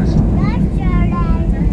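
A loud, steady airplane engine roar with a whining hum rising and falling as a Ryanair flight moves onto the runway at Birmingham Airport, while people talk close by.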